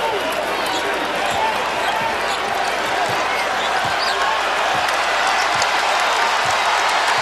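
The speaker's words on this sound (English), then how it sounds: "Now the fans, and always a great crowd here, urging Louisville to make some shots." Basketball arena crowd of fans urging Louisville on during a game against Virginia Tech, a steady roar of crowd noise with sneaker and ball thumps scattered underneath and a commentator talking over it.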